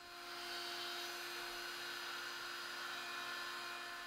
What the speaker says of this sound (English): We use the 2-flute bit again to rat out the notches